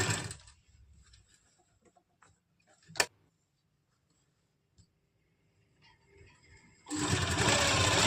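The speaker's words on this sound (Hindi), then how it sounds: "तो यहाँ से मैं यहाँ से 1/2 इंच फोल्ड करते हुए पहले पूरे में इस तरह से सिलाई लगा लूँगी" A sewing machine stitches a half-inch folded casing along an Afghani salwar: a brief whirring run at the start, a quiet stretch with small ticks and clicks, then a loud, steady run at the end, with no talking.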